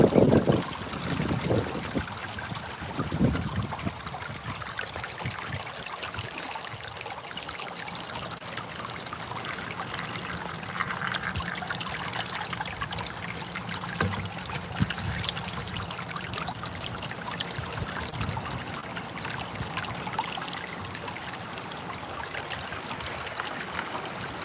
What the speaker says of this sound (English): We're just gonna slow drip it what we can into the sluice here.